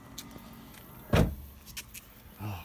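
2021 Tesla Model 3 power window sliding down, a short motorized whir and thump in the middle, followed by faint clicks and a low rumble, no talking.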